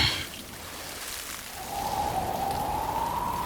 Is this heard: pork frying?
no